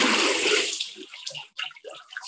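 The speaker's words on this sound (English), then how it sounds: "scooping it into the water, allowing the water to drain out, and the pulp settles on the frame, and let that drain." Water drains from papermaking pulp on a frame, a loud rushing pour at first that tapers into scattered drips and trickles.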